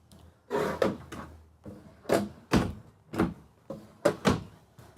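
Several wooden drawers in a Jayco Seneca 37TS motorhome slide open and shut with solid thunks, about eight bursts in an irregular rhythm, close by and fairly loud, with no talking.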